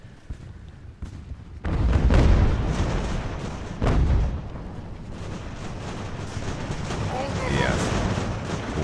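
Cannon fire from a ship's crew manning a gun in the naval strategy game Ultimate Admiral: Age of Sail, heavy booms rolling out in a couple of big bursts over a continuous battle din.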